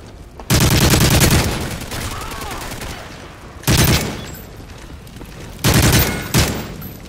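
Loud bursts of automatic gunfire in a Call of Duty: Modern Warfare 3 free-for-all multiplayer match. Three heavy volleys are separated by quieter stretches of distant shots, with game sounds continuing throughout.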